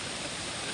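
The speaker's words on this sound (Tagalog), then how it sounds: "Mas lumakas pa talaga yung baha." Rushing floodwater gives a brief, steady broadband roar, close and constant with no voices.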